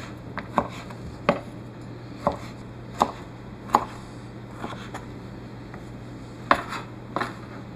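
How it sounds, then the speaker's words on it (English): A knife chopping bacon into lardons on a board, about ten sharp, moderately loud knocks in an uneven steady rhythm over a low constant hum, with no talk. "We'll get this cut into some lardons"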